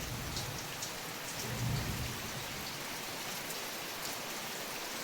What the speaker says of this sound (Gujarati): હવે તો મિત્રો 2 વાગ્યા છે ને પાછો વરસાદ મંડાણો છે